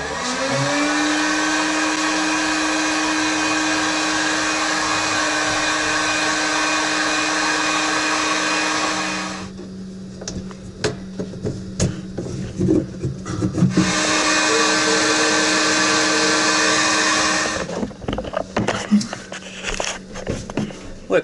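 A heat gun blows a steady, loud whirring hum while heating a plastic tank, cutting out briefly midway amid handling knocks and a voice, then running again before stopping.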